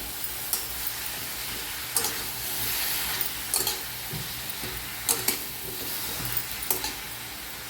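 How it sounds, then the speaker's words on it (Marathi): Washed eggplant sizzles in a frying onion-tomato masala, a steady close hiss punctuated by regular clacks and scrapes of a spoon stirring against the pan, with no voices. "आता वांगी स्वच्छ धुवून घेतले ती टाकूया वांग्यांना मिक्स करून घेऊया"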